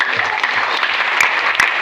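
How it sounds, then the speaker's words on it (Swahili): Church congregation clapping together at a service, a steady dense wash of applause filling the whole moment with no break. "Yesu makofi mazuri."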